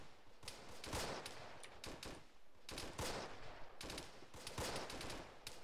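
Sustained machine-gun fire loosing tracer rounds in a World War II shooter, long rapid bursts with brief gaps, loud and close, no voices.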